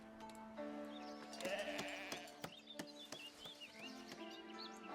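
Sheep in a pasture in the village-building game Foundation bleat repeatedly, several wavering calls over gentle background music with light clinking effects.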